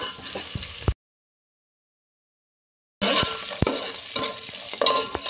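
Onions and green chillies sizzle in a hot pan as a spoon stirs them, scraping and clinking in close, steady bursts. The frying cuts off for about two seconds of total silence, then starts again.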